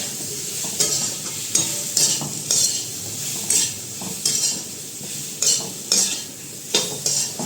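Spices being stirred into a parwal (pointed gourd) and potato curry in a pan, a spoon scraping in regular strokes about every half second over a steady close sizzle, with no talking.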